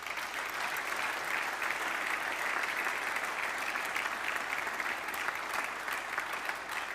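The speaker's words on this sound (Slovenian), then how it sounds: "Za vas pa prosim še za en bučen aplavz." Dense, even clapping from an audience at an innovation awards ceremony after a gold award is presented, continuous and fairly distant with no pause.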